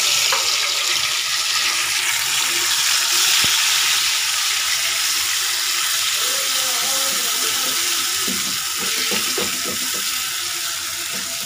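Garlic and ginger sizzle in a pan as tomatoes go in for a liver fry, a loud, constant hiss of frying with some clattering stirring.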